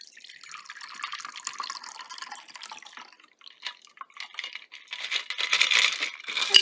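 A grapefruit drink, the grapefruit glow, is poured into a glass, giving a few seconds of soft splashing and dripping that swell louder near the end.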